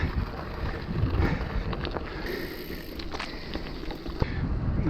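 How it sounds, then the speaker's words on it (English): A strong headwind buffets the microphone of a cyclist riding on gravel in Lincolnshire, producing loud, continuous rushing gusts with intermittent crunching and rattling from the ride. "headwind, quite beefy headwind as well"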